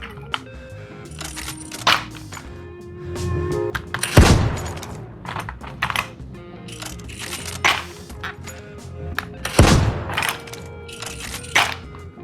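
Bolt-action sniper rifle shots in a video game, two loud sharp booms several seconds apart amid faint clicks and clatter from a controller setup.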